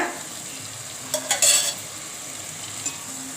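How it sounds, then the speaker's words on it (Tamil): Yogurt goes into spiced masala frying in oil in a pan for tomato biryani, with soft steady sizzling and a few scraping stirs mid-clip, close and moderately loud. "இப்போ நம்ம தயிர் சேர்த்துக்கலாம் ஒரு ஐம்பது கிராம் தயிர் சேர்த்துக்குங்க"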